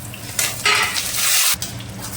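Curry leaves dropped into hot oil with peanuts and cashews for mango rice give a bright crackling sizzle that swells and fades, mixed with stirring and the clink of a pan, close and without talk.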